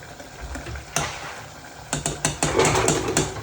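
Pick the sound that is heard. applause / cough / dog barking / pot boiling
pot boiling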